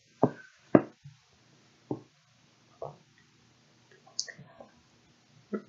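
A computer mouse clicks a handful of times at irregular intervals, sharp close taps separated by near silence, with a few fainter clicks toward the end.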